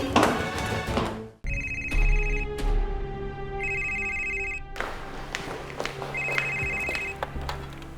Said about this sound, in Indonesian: Itu teleponnya, Mbak. Itu teleponnya.